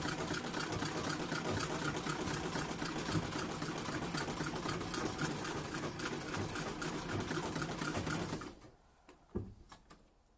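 A sewing machine fitted with a Revco reverse attachment stitches backward in a steady, close, loud mechanical whir for about eight seconds, then stops abruptly, leaving a few faint clicks.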